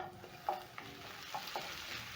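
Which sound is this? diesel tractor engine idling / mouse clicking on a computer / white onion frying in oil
white onion frying in oil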